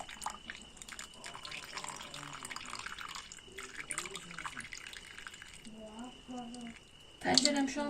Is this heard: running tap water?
yes